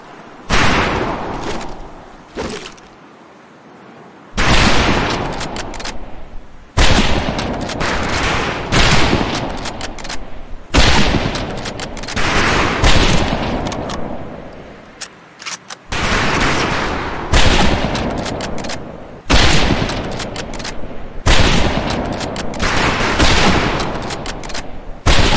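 Rifles firing in bursts on a firing range in Medal of Honor: Pacific Assault, loud, dense volleys that are sharp and rapid and separated by short gaps, with no voices.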